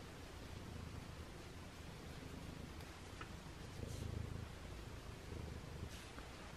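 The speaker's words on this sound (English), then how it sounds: "Stella's purring, and Simba's purring." Two house cats purring together, a steady low continuous rumble close to the microphone with faint rustling, soft and uninterrupted, no talking.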